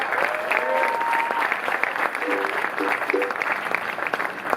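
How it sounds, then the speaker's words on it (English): Bluegrass concert audience applauds venue staff at Tileworks, steady dense clapping with a few whoops and cheers on top. "How about a round of applause for everyone letting us throw all these big parties here"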